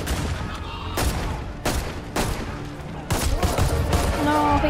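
Heavy battlefield gunfire from the Battlefield 1 campaign comes in loud repeated bursts and volleys, close and dense, with brief gaps between them and a voice speaking faintly beneath.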